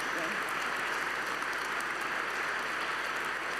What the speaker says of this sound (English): please, everybody, give a round of applause for Jolly Bar